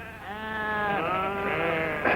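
A sheep bleats in one drawn-out, wavering call that lasts about two seconds, close and clear, ending with a brief rougher burst, with no speech over it.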